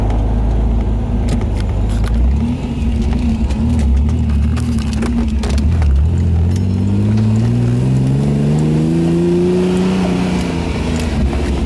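A Ferrari Testarossa convertible, a custom Miami Vice replica conversion, accelerates hard with a loud, close engine note that climbs steadily, then rises again after a gear shift, with heavy road and wind rumble underneath.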